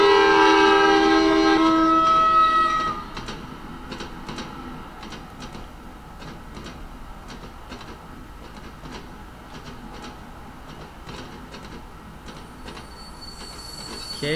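Train running in the Train Simulator 2018 game on the Isle of Wight line, starting with a loud whistle-like tonal blast before settling into a steady rumble with rhythmic clicking of wheels over rail joints.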